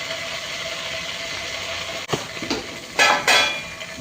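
Cumin seeds hit hot oil and butter in a pan for pav bhaji, giving a soft steady sizzle broken by a few sharp bursts of crackling and a clink of utensil against the pan.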